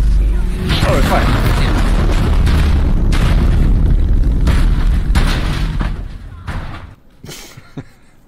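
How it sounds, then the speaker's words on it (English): An airstrike grenade in Totally Accurate Battlegrounds sets off a long run of heavy, loud booms and thuds that roll on for several seconds, then tail off into a few scattered, fainter blasts while players talk over it. "Airstrike grenade."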